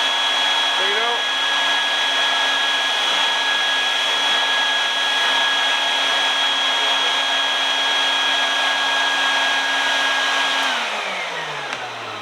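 A DIY bee vacuum runs at a loud, steady whine with its suction pulling down on the lid of a secondary honey bee catch container, holding constant before the motor pitch drops and winds down near the end.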